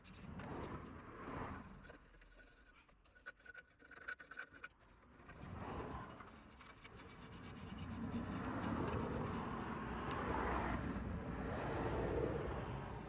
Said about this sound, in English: Give it a wire brush